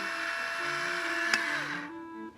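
An electric salt grinder grinding salt gives a steady, close motorized whir that winds down near the end, with a single small click partway through.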